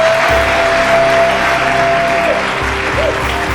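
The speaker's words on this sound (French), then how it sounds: "on accueille avec un tonnerre d'applaudissements" Studio audience on a French-language television show claps in sustained, dense applause across the whole stretch, steady and loud, with a few low tonal hums beneath.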